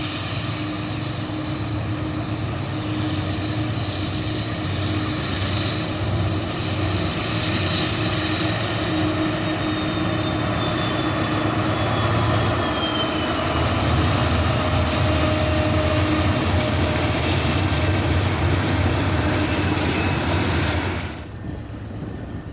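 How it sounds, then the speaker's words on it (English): BNSF run-through freight out of Roseville, led by a pair of untouched Warbonnet -8 locomotives, rumbles steadily and loudly with heavy diesel drone and sustained wheel noise, close by, before cutting off abruptly near the end. "A pair of untouched Warbonnet -8s lead the Stockton to Denver BNSF run-through out of Roseville."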